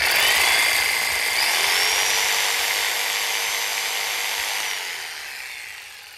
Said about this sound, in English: And so the jigsaw pulls about 250 watts